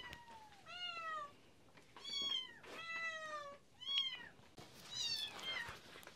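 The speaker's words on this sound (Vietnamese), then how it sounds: "Ôi mèo là không đói rồi Hải." A cat gives a series of about six distinct meows, some drawn out and rising or falling, spaced a second or so apart at close range over quiet room background.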